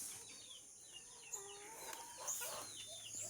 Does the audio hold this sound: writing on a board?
no